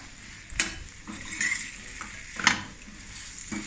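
Fried idlis get stirred in a pan, with a low sizzle broken by a few sharp metal spatula scrapes and clinks against the pan at irregular intervals.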